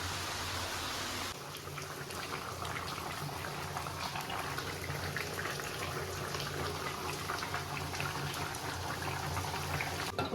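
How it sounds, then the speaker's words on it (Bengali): A covered pot of country chicken curry with papaya boiling on the stove, a continuous soft bubbling hiss that steadies after a brief dip near the start and simmers evenly, moderately quiet and close. "যে ঢাকা দিলে পরে জিনিসটা তাড়াতাড়ি ফুটে উঠবে"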